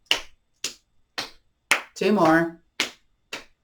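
Hands slapping the inner elbows in a yoga exercise: six sharp, loud smacks in a steady rhythm, each clearly separated by silence, with a short spoken phrase in the middle.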